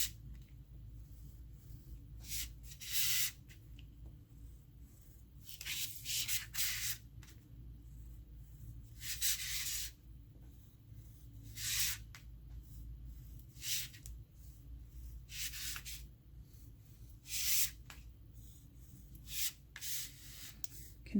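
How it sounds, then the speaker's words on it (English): Sunflowers are drawn on paper in bursts of soft, scratchy strokes. Each burst lasts a second or so, with quiet gaps between them, and the sound is faint and close, with no talking. "So I'm just gonna start drawing sunflowers until the vase looks full"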